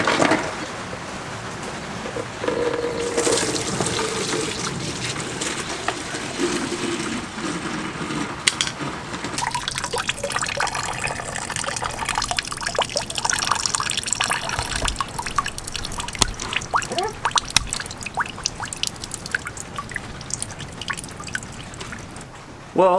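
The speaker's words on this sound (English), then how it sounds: "I only have this bucket because I don't really have any trays to catch coolant with." Coolant running out of a Mazda Miata radiator into a bucket, a steady liquid trickle and patter with occasional drips and knocks, fairly close and continuous throughout.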